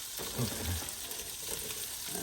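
Polish kielbasa sausage frying in hot oil in a pan, a close, steady sizzle with brief stirring bumps.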